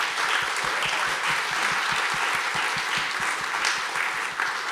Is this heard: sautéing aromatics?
no